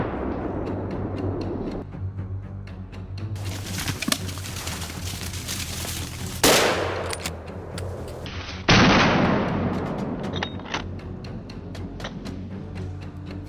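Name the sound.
gunshots fired at a wild boar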